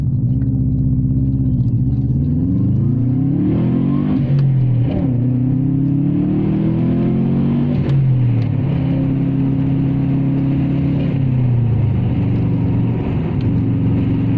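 A Subaru Impreza pulls hard in fourth gear on a winding road, its engine note rising and falling in a loud, steady mid-range drone that carries the whole time with no talking.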